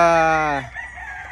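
A loud, close rooster crow with a strained, drawn-out cry that trails off into quieter clucking.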